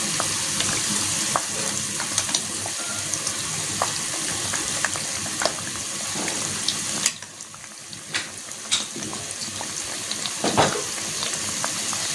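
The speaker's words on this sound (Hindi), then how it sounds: "हमारा ऑयल जो है वो गर्म हो गया है और अब हम एक एक करके समोसे इसमें डाल देंगे" Samosas frying in hot oil make a steady, loud sizzle with scattered crackles and pops that runs the whole time, briefly dropping and then surging again near the end.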